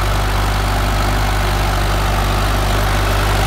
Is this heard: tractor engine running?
yes